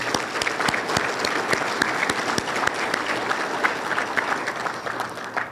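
A large audience applauds at a regional state-of-the-region address, dense sustained clapping throughout without a break.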